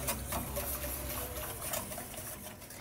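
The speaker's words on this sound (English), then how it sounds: "I'm gonna bring this back to the heat, low heat, keep it whisking until it thickens up." Butterscotch pudding is whisked in a pot over low heat, giving a steady, close scraping and ticking texture that runs continuously with no talking.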